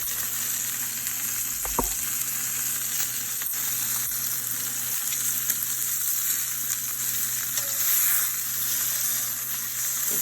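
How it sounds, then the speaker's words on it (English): Steaks cooking rare to mid-rare in a hot pan give a continuous, dense sizzle and hiss, close and steady throughout, with a faint clink or two and no talking. "It'll take about 8 to 10 minutes to cook these steaks to nice rare to mid-rare"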